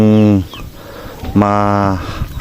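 A rooster crows twice nearby, loud drawn-out calls with a pause between them, over faint background noise.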